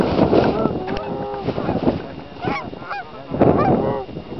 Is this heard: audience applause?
no